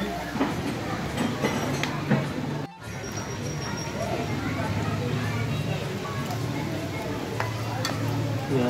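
A kilogram of chicken drops into a pot of browned onions, garlic and ginger, setting off a loud, steady sizzle with clattering stirring over it.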